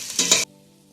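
Rice frying in oil and ghee for ghee rice, stirred in a pan: a short burst of hissing sizzle with a quick scrape, then it cuts off abruptly into near silence.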